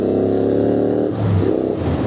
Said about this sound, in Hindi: आवाज़ ना बहुत प्यारी आ रही है, लाउड भी नहीं है बट बहुत सूदिंग है, और वो फील भी आ रहा है इंजन का